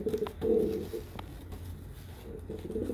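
Kanat Balon pigeons coo in low, throaty rolls close by, a few soft calls rising and fading over a quiet background.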